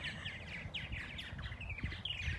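Purple martins chirp and twitter in quick, overlapping calls while feeding their nestlings outdoors, the chatter faint and steady over low background rumble.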